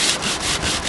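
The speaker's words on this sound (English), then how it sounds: "So I just go ahead, sand through here." Sanding old barn wood by hand makes a close, raspy rubbing sound in back-and-forth strokes, steady and fairly loud, with no talking.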